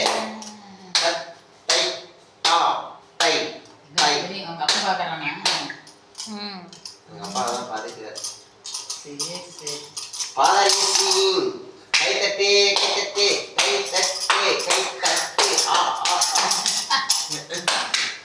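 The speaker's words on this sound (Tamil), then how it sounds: "கைத்தட்டு பாப்பா கைத்தட்டு கைத்தட்டு தாளம் போடு" Hands clap in sharp, evenly spaced beats to a children's song, first alone between sung lines and then more densely under continuous singing.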